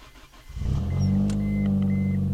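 A car engine cranks briefly and catches, then settles into a loud, steady, close rumble that holds to the end.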